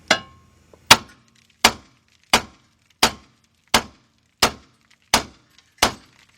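A hammer striking the front strut assembly on a 2008 Ford Fusion: nine sharp, ringing metallic blows at an even, deliberate pace roughly every 0.7 seconds, each decaying quickly, loud and close with no talking.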